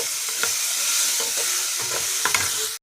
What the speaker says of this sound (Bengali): এখন মিষ্টি কুমড়া ভাজা